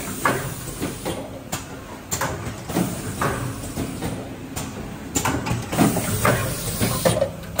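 Fully automatic two-color logo printing machine for paper bowls and paper containers, running with a steady mechanical hiss and rhythmic clattering thumps of moderate loudness, close by and continuous throughout.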